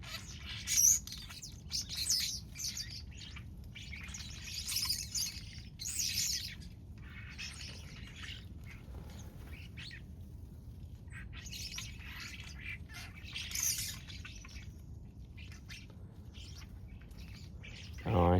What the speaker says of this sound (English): It's probably at least 10 or 12 birds in my tree right now.